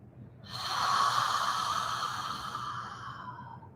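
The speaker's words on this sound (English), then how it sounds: "Take a great deep inhale and an audible exhale." One deep, audible breath during a yoga session ends in a long, breathy exhale that swells and slowly fades, close and alone.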